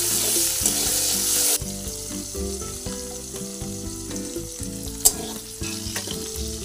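Cumin seeds and chopped onion fry in oil over a handmade clay stove, a hiss that drops sharply early on and then settles into a softer sizzle with a single sharp clink, set against a steady background tone.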